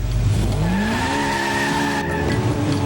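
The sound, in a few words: Pro Mod race car revved to 9,000 rpm, clutch dropped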